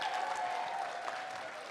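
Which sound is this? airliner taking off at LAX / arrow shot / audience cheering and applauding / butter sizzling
audience cheering and applauding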